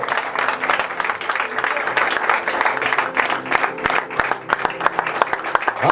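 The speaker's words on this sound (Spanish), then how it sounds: "Quiero que le des un aplauso al Señor y te pongas de pie" Church congregation applauds while rising to its feet during a sermon, sustained dense clapping with sharp individual claps standing out, loud and continuous, with a low hum of voices beneath.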